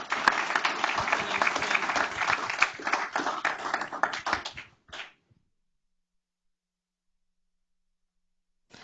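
An audience at a school board meeting claps for AP Scholars with distinction, a dense burst of applause that thins and stops abruptly after about five seconds, followed by silence.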